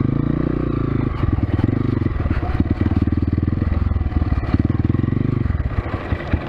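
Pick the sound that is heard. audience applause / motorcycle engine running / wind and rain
motorcycle engine running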